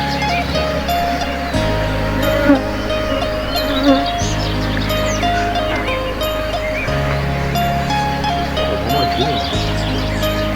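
Bees buzz steadily and densely in a layered hum while being moved from an old bird cage into a wooden bee box, with occasional brief louder swells.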